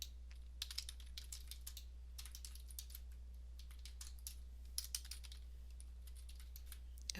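Rapid keystrokes on a computer keyboard enter a task title in promotion software, arriving in quick bursts separated by short pauses; close and fairly quiet, with no talking over them.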